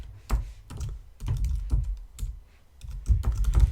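Code being typed on a computer keyboard, with bursts of sharp, close key clicks in quick clusters separated by short pauses, no talking.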